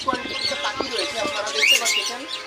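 Cockatiels, budgerigars and other cage birds at a bird farm in Khulna, Bangladesh, chatter and chirp densely and continuously, with someone talking over the flock.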